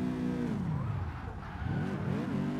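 A car drifting after a handbrake entry in CarX Drift Racing, with a loud continuous engine drone and tyre squeal whose pitch sweeps down and rises again, close and steady.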